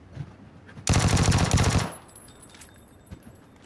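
A single rapid burst of Vector submachine gun fire in PUBG, about a second of fast close shots, followed by quiet game ambience.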